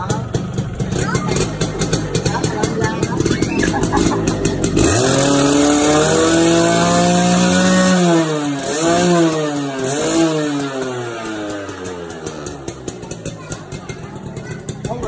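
A motorcycle engine revs up hard, its pitch rising and falling in repeated throttle blips, loud and close, with voices talking underneath.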